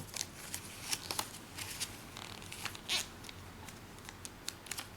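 Origami paper folded along its center crease, giving soft crisp rustles and brief sharp crackles in a quiet room, close up with no voices.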